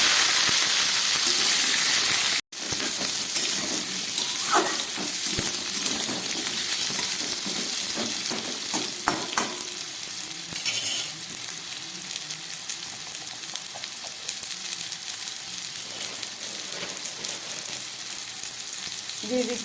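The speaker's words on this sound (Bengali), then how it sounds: "এই তেলের মধ্যে আমি সবজিগুলোকে ভেজে নিচ্ছি।" Potato, eggplant and pumpkin pieces frying in mustard oil give a dense, continuous hiss and sizzle that stays close and fairly loud throughout, with one brief dropout early and faint stirring scrapes mixed in.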